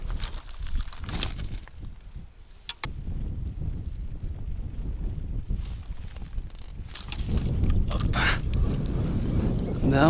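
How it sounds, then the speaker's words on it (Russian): Wind picks up at a lake during a solo fishing trip, buffeting the microphone with gusty low rumbles that swell and fade, growing stronger toward the end, with a few brief knocks. "Да, уже ветер начинается."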